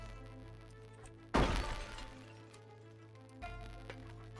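Window glass breaks in the zombie survival game Project Zomboid, a single sharp shattering crash with tinkling debris that trails off, followed later by a quieter thump in a low background hum.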